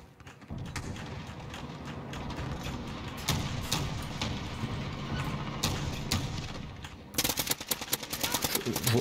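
Rapid bursts of automatic gunfire in Call of Duty: Modern Warfare (2019), a dense rattling volley near the end after scattered shots, loud and close over game ambience.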